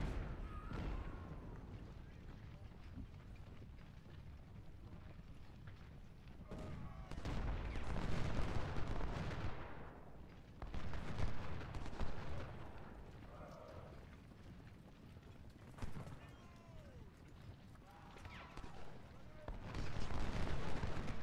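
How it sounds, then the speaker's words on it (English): Artillery fire in a Civil War strategy game: repeated low booming blasts and gunfire rumble in bursts at moderate distance, rising and falling over a steady battle din, with a voice talking at times. "They're just going to sit here and take artillery fire."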